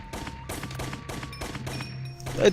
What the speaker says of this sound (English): here's the spread gun. Just like Contra, it's really powerful